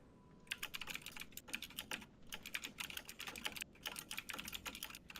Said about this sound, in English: Your loud mechanical keyboard.